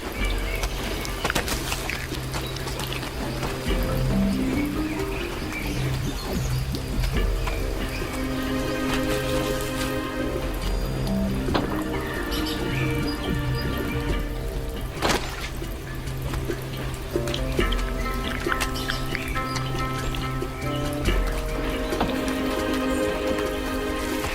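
Torrential rain pours down in the Amazon rainforest, a dense continuous hiss of drops pattering on leaves and water, heavy and close, with no voices.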